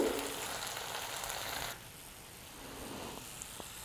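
Paneer sizzling in a pan as it is stirred with sauces, a bright hiss that is loud at first, then suddenly drops to a faint simmer with a few small clicks.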